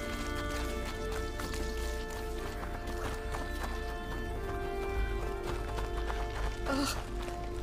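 A horse's hooves clip-clop in a steady running rhythm over a low rumbling background, with a whinny and scattered sharp noises, in the video game A Plague Tale: Innocence.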